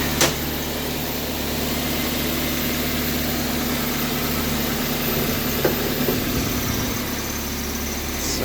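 An 8th-generation Toyota Corolla engine idles with a steady low hum and noticeable vibration after a passenger-side engine mount install, heard close and continuous with no talking.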